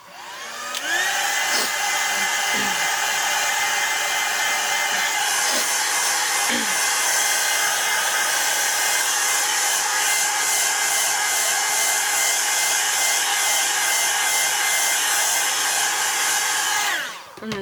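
A handheld hair dryer blows steadily on a mixed media art canvas, a loud continuous whoosh that switches on after about a second, holds for roughly sixteen seconds with only slight shifts, then cuts off.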